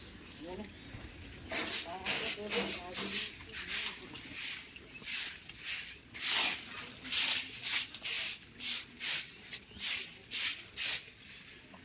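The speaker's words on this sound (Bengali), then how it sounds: "ঝাঁটটা দেওয়া শেষ করে দিই, গেটের সামনে ধুয়ে দিই ভালো করে।" Water splashed and sprayed over the ground in front of a house's main gate, heard as a steady series of hissing, washing bursts in a regular rhythm, with a voice talking faintly in the opening seconds.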